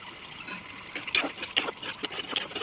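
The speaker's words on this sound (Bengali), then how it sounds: "অল্প বাটি ধোয়া জলটা দিয়ে দিলাম" Bowl-rinsing water poured into a pan of egg curry, a short liquid splash and gush with a few sharp spattering bursts close up.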